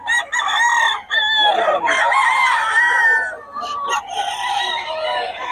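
A rooster crows loudly and close in Bocaue, giving a long drawn-out crow followed by shorter calls and clucking from nearby fowl, with no talking.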